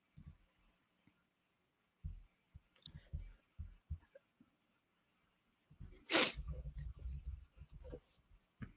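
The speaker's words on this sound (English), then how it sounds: "Guys, I might have to go like sneeze." A single sharp sneeze bursts out from a person close to the microphone, preceded by scattered small clicks and soft noises, then followed by muffled rustling.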